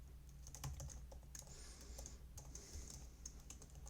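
Fast typing on a computer keyboard, with quick irregular bursts of clicking keys close by and fairly quiet, and no one talking.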